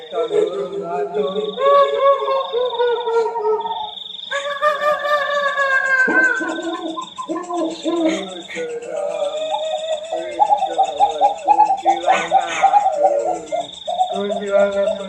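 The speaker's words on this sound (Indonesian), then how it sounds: "Ringtone burung hantu." An owl ringtone: rhythmic hooting and cooing calls repeating over a recurring high electronic tone, loud and steady throughout.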